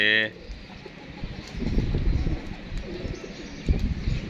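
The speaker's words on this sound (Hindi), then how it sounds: "कबूतर की दीवारों में टकरा रहा" Pigeons coo softly amid fluttering and rustling, with a brief tonal call at the very start and low thumping movement throughout.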